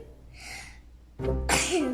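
A child sneezes in a Peppa Pig cartoon: a quiet lead-in, then a loud, sharp sneeze burst that trails off into a breathy tail.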